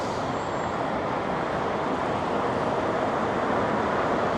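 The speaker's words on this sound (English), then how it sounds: "Big truck just emerging." Dense, steady city traffic rumble on a downtown Toronto street as a big truck pulls out, a broad continuous roar with no distinct pass-by, heard from the sidewalk.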